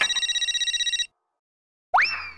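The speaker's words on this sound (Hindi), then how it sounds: "अरे देवा, सुबह सुबह इसका फोन।" A telephone rings indoors in a family sitcom setting with a rapid repeating electronic trill for about a second, then falls silent before a brief rising tone sounds, loud and close with no talking.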